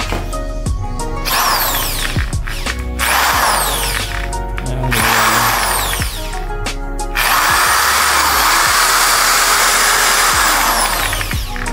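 A car buffing machine being tested runs at high speed, its loud motor whine revving up and down in several bursts with short pauses between.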